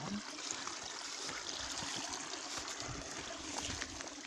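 Outdoor stream water running in a steady, faint broadband rush with light trickling and splashing textures, continuous and unbroken with no talking.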